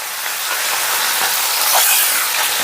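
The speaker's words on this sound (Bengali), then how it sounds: "এবারে ঠিক একই প্রসেসে বাকি চিকেনগুলোকেও ভেজে নেব।" Pieces of chicken for a yogurt chicken dish fry in hot oil, making a loud, unbroken crackling sizzle that holds steady from start to finish with no one speaking.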